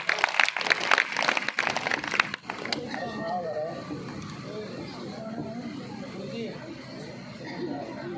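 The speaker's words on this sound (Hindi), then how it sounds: "एक बार इनके लिए जोरदार तालियां।" Applause from an audience at a devotional jagran at a temple dham, a dense burst of clapping over the first couple of seconds that gives way to murmuring crowd noise and a voice over a sound system.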